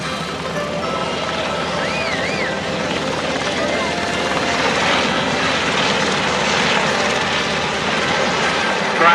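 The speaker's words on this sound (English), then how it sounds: "Watch the Blackhawk pop up out here off of Aeroshell Center." A Black Hawk helicopter flies over an air show, its steady rotor and engine roar filling the scene at moderate distance while crowd noise and a faint announcer-like voice sit underneath.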